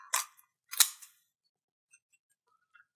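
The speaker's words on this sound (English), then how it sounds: "Nice sharp kitchen shears, and you just follow the backbone and cut right through the ribs." Sharp kitchen shears snip through the ribs of a Cornish hen along the backbone, two crisp crunching cuts in quick succession at close range, followed by faint small clicks in a quiet kitchen.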